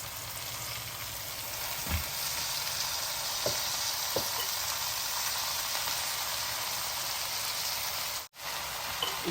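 Onions and gongura leaves fry in a pan with a soft, even sizzle, broken by a few faint stirring taps and a brief dropout near the end.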